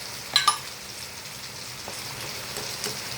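Bitter gourd slices fry with salt in a pan, a soft, close, steady sizzle with a couple of sharp clinks near the start and faint crackles after, no talking.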